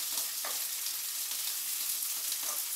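Sausages sizzle in a hot frying pan with a steady broadband crackle throughout, close and fairly quiet, with a few faint stirs or turns of the pan.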